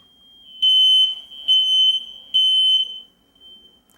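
Three loud, piercing electronic beeps from a smoke detector at a steady pace, each about half a second long, followed by quiet.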